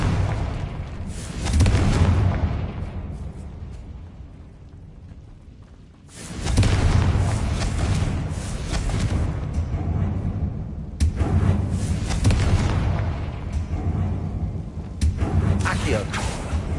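Confringo blasting spell explosions in the Harry Potter: Legacy video game, three heavy booming bursts with long rumbling tails separated by brief lulls, mixed with game combat noise and a voice.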